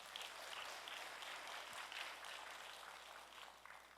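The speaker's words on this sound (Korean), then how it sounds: "그들을 위해서 다 같이 한번 박수하도록 하겠습니다" Church congregation claps for its staff during a Sunday sermon, a soft, distant wash of sustained applause that stays even throughout and fades a little near the end.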